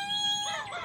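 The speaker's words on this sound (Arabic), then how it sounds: "صراحة لسه ما سمعت صوت الديك، فان شاء الله يأذن عشان نسمع صوته" A rooster crows at a farm keeping small cotton-feathered dwarf chickens: one short, clear, fairly close call with a rising then wavering pitch, heard alone.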